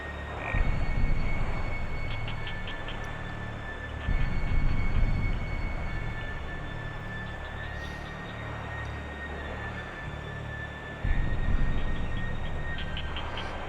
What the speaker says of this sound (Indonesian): Suara kodok yang nemenin terus nih.